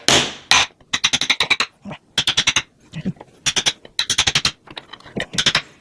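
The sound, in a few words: hammer and cleaver breaking chocolate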